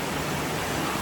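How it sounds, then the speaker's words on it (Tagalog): Heavy rain pours down in a dense, steady hiss that fills the whole moment, loud and close with no pauses or other sounds. "Mas nikusog ang ulan."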